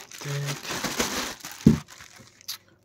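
Plastic packaging around a Super Sailor Mercury Glitter & Glamours figurine crinkles and rustles as it is opened and cut, with a sharper snip or crack near the end, close and fairly quiet, with a voice speaking over it.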